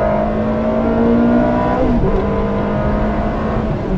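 A Ferrari accelerates on a road, its engine droning steadily with a rising and shifting tone, loud and close throughout with no talking.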